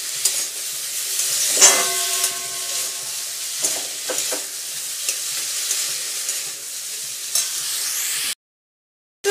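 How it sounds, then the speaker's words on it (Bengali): Semolina frying in a pan over lowered gas, with salt and turmeric added, being stirred, giving a continuous close sizzle with scraping strokes, then a sudden cutoff near the end. "একটু ঢাকা দিয়ে দিয়ে ভেজে নেব। কমিয়ে দিলাম গ্যাসটা, এবার একটু নেড়ে নিই"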